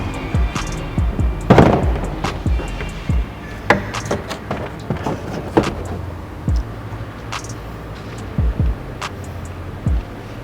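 Rear seat of a 2024 Suzuki Celerio GL being folded and taken out, with a run of close thumps, clicks and latch knocks, scattered irregularly and fairly loud inside the car.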